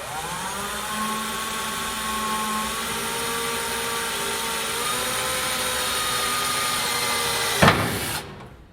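A drill with a step bit cutting holes through the frame of a 1993 Dodge truck: a steady whining motor drone with a slowly shifting pitch, then a short harsh burst near the end before the drill stops.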